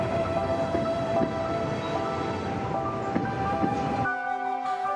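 Rumbling rail noise of a train running past near Gotokuji temple in Japan, moderately loud, with some tonal squeal, ending in a quieter hum.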